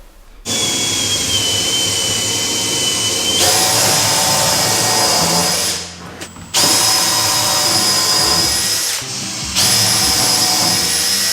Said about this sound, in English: Why do you have to drill them?